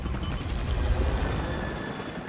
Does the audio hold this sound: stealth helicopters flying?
yes